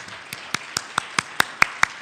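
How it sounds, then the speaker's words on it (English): At a development conference panel, a single person claps in an even rhythm, about nine sharp claps spaced evenly over two seconds, fairly close. "we should all give ourselves a round of applause"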